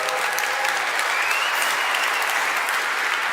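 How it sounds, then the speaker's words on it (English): Conference audience in Berlin claps in a steady, even wash of applause for a few seconds, full and close, with no speech over it. "I expected a bigger applause for my deep understanding"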